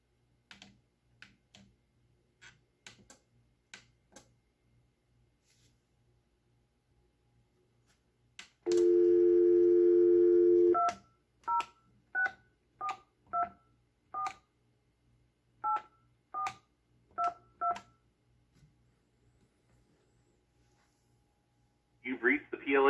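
Panasonic KX-T2740 telephone on speakerphone: a loud dial tone, then a series of short DTMF keypad tones, each preceded by a soft button click, and a brief burst of sound at the end.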